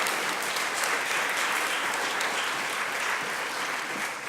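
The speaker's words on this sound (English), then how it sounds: "Can we have a round of applause?" Steady, dense applause from an audience at a mayor's press conference, filling the room evenly and loudly from start to finish with no talking over it.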